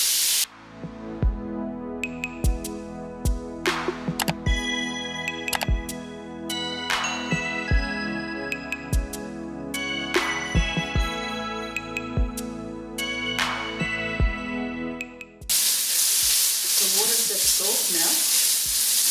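Pork mince, about 250 grams, drops into hot oil in a pan and breaks into a loud, steady, close sizzle near the end, after a long stretch of tinkling background music.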